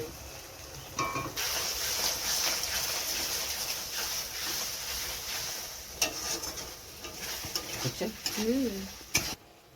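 Chilli chicken frying in a pan while it is stirred, giving a steady sizzle and hiss with scraping stirs, occasional clinks and a brief voice or cough near the end.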